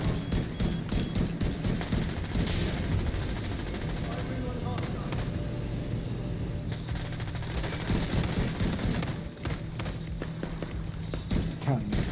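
Shotgun fire in a video game, dense repeated blasts and booms layered over continuous action noise, loud and sustained throughout.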